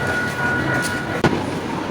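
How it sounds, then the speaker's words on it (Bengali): Inside a nearly empty train at Bangaon station, a steady low rumble and hum fill the carriage with a faint whine, plus one sharp metallic clunk near the end. "ফাইনালি আমরা ট্রেনে উঠছি এখন।"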